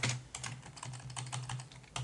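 Rapid typing on a computer keyboard clatters in quick, uneven bursts of keystrokes, close and fairly soft, with no voice over it.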